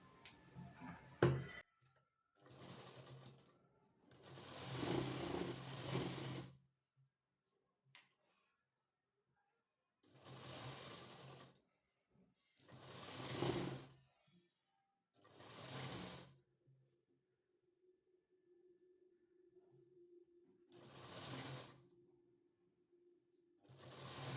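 A sewing machine stitches blouse sleeve fabric in repeated bursts of rapid clatter with short pauses between runs, and a low steady hum carries through the quieter stretch near the end.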